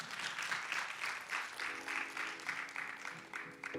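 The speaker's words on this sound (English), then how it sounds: "Please give her a round of applause." Audience applause at a maternal health fair in Los Angeles, a steady wash of clapping from a crowd that holds at a fairly even level throughout, with a faint tonal hum entering partway through.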